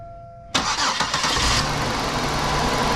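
A 2005 Buick Park Avenue with a random misfire cranks after a brief quiet moment, its engine catching abruptly into a loud, steady close-up run.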